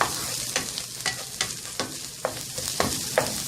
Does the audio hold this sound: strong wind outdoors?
no